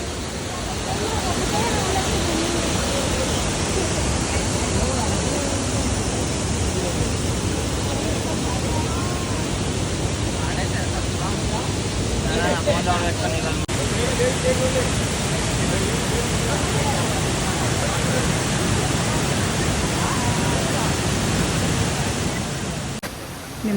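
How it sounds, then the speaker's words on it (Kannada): Vibhuti waterfall near Gokarna, a steady broad roar of rushing water filling the scene from start to finish, with faint voices mixed into the constant wash. "ಬ್ಯೂಟಿಫುಲ್ ವಾಟರ್ ಫಾಲ್ಸ್ ಇದು"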